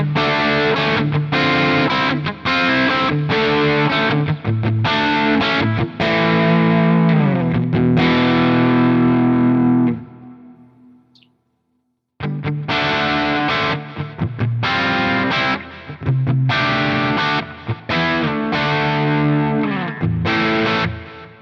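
Distorted high-gain electric guitar through a Soldano amp plugin on a Quad Cortex, playing chugging rhythm riffs loud and up front, pausing briefly into near silence around the middle before resuming with the same crunchy, saturated tone.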